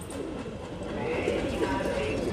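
Male high-flyer pigeons from Jaipur Tonk give soft cooing calls up close, with a human voice faintly in the background during the brief moment.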